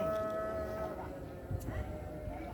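Black cow lowing at an Indonesian cattle market, a faint, low moo sounding at a distance under a steady murmur of crowd noise.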